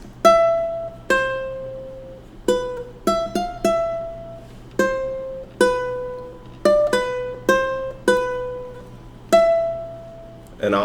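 A ukulele plays a song's melody note by note, each plucked tone ringing out and decaying, spaced irregularly across the phrase, close and clear with no voices.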